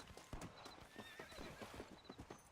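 A horse in the Red Dead Redemption video game clops its hooves and lets out a whinny, brief and fairly quiet within the game's surroundings.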